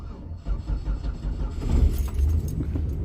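A 1989 Chevy C15 pickup's engine cranks and catches, then settles into a low, steady rumble close by, with a brief jingle of keys at the start.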